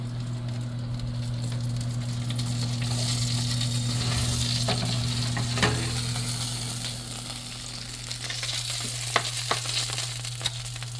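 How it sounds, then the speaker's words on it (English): Baked piggy shots sizzling steadily in a 350-degree oven, a continuous crackling fry with scattered sharp pops and a low hum underneath, close and moderately loud throughout with no talking. "that sizzle says it all"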